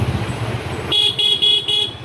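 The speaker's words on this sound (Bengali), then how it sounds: "কি বিভৎস রকমের জ্যাম।" Car horns blare in a heavy traffic jam on the Kolkata to Digha road, with engine rumble first and then several loud, close honks in quick succession.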